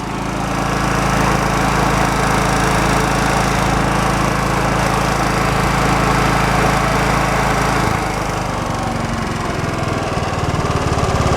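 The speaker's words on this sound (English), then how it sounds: "Automatically idles down when you take the power off it." A Honda EB3000 portable generator runs loud and close with a steady engine drone, then drops to a lower idle near the end as the load comes off, no talking.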